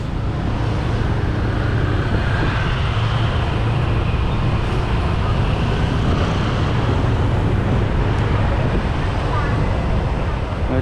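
Steady road traffic drones along a busy street in Pattaya, Thailand, heard from inside a moving vehicle. The engine and road rumble is continuous and fairly loud, with faint voices in the background.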